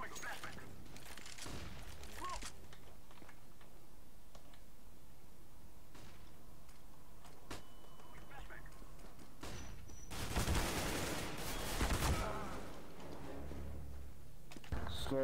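Gunfire in Counter-Strike: Global Offensive, with scattered shots early on and a louder burst of rapid automatic fire near the end, mixed with game noise and players talking.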